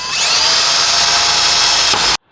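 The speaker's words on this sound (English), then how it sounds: "Literally just drill a hole through the plastic" A power drill bores a hole through plastic trim on a Honda Civic Type R FL5, one loud steady high whine held for about two seconds before stopping abruptly.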